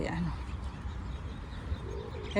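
Pigeons in an outdoor park on a cool morning, with soft low cooing under steady ambient noise and faint background voices.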